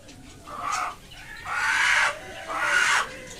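A newly acquired rooster and hens at a small backyard mini zoo cluck and call in three drawn-out bursts, close and moderately loud, with no talk over them.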